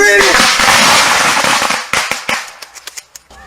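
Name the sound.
gunshots fired in a reenactment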